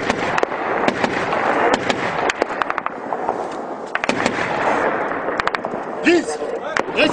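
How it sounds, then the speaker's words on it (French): Rapid bursts of distant cannon fire and booming blasts crackle over a noisy background during combat in Afghanistan, with people talking and shouting throughout. "C'est du canon vite"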